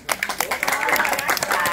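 A short round of lively clapping from a small group of people in Danang, Vietnam, with excited voices and cheering mixed in close by.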